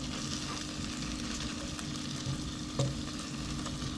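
Hot chicken wings crackle softly in an air fryer basket as they are turned over, a steady low sizzle with a couple of faint clicks of the basket, no talking.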